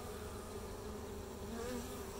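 Honey bees from a weak winter hive buzz continuously in a dense, steady drone, close and moderately loud, with no talking over it.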